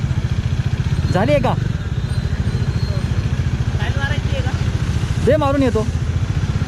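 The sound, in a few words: Bajaj Dominar motorcycle engine idling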